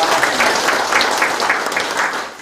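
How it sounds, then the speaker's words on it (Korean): Sustained audience applause at a community meeting in Sindun-myeon, Icheon, welcoming the mayor; a dense, steady patter of many hands clapping, fairly close and continuous throughout with no talk over it. "큰 박수 한 번만 좀 부탁드리겠습니다"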